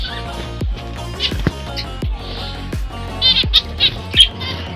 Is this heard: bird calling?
yes